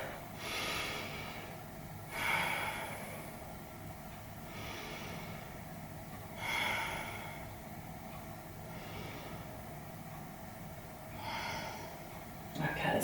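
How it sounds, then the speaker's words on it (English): Slow, deep breaths during a yoga chair pose, three or four drawn-out inhale and exhale swells spaced a few seconds apart, close and audible over a quiet room. "3 deep breaths"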